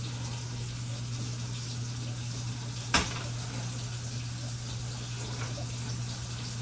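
Reduced apple cobbler juice with apples boiling in a pan: a steady, even bubbling sizzle that holds throughout, broken once by a single sharp click partway through.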